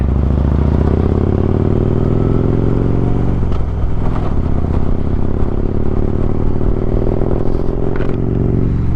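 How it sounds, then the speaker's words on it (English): A motorcycle engine idles high and runs steady and loud the whole time, a dense low rumbling drone with a few faint clattering ticks over it. "I'm not sure why the idle's up so high"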